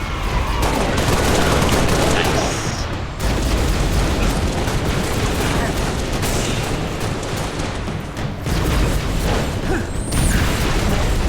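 Heavy, sustained turret gunfire from a Pelican dropship in Halo Reach, a loud continuous fusillade with explosive bursts that briefly drops out near three and eight seconds, with no talking.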